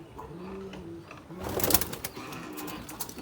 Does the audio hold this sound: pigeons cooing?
yes